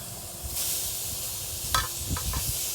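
Steady hissing sizzle of tuna steaks on a hot Lodge Kickoff grill, close up, with a few soft clicks and scrapes.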